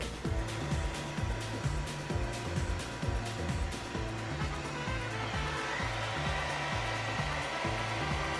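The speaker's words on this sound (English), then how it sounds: "this is what I'm using to dry my hair" A loud hooded hair dryer runs continuously, a steady mechanical drone with a fast rhythmic pulsing throughout, close by and with no talking.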